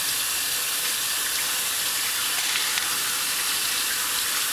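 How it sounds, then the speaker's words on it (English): Steady hiss of tap water running over cilantro being rinsed, an unbroken wash of sound at even loudness, close and fairly loud, no speech. "So I am picking up some cilantro over here. And I'm rinsing them out"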